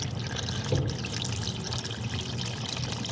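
Engine oil pouring out of the drain plug of a 2025 Toyota Tacoma into a pan, a steady close liquid splashing and trickling stream with no pauses.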